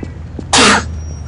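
A single sharp, loud cough bursts out once amid quiet background noise.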